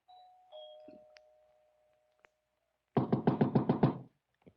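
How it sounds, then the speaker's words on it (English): A doorbell rings inside a house in a radio drama: a faint sustained tone and a few light taps, then a loud, short burst of rapid, evenly repeated rings lasting about a second. "punched at the doorbell, and heard it ring inside."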